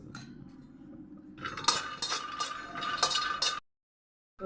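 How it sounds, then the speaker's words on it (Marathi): Peanuts being roasted in a pan for a Marathi chutney: a soft scraping stir gives way to clattering, clinking bursts of a spoon or spatula against the pan, then a brief silence near the end. "आता आपण शेंगदाणे खरपूस भाजून घेऊया"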